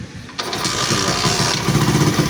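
A motorcycle engine that has a starting and misfiring problem after a water wash or rain cranks and catches after a short quiet moment, then settles into a steady, fairly loud running rumble.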